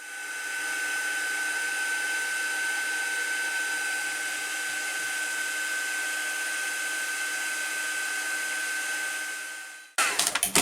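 A heat tool melting embossing powder in a journal, blowing with a constant hissing whir for about ten seconds before cutting off abruptly into a few clattering knocks, close and unaccompanied by speech.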